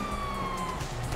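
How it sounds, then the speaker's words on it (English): Police car sirens wailing in the video game GTA V, a steady, moderately faint siren tone heard briefly without speech. "you hear that? Sirens."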